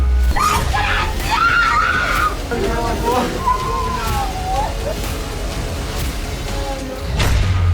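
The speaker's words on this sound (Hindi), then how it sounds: "ये चीखें" Anguished screaming and wailing from several people, with rising and falling cries rising over a noisy crowd scene from wartime coverage of the Israel–Palestine conflict, loud and continuous throughout.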